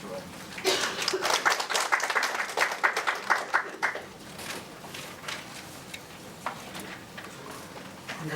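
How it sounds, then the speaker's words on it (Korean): A church congregation applauds to welcome a missionary, a moderate burst of clapping that rises, holds for a few seconds and fades, followed by scattered claps and quiet room noise. "여러분들 사랑으로 앉아주시고 박수 해주시기 바랍니다."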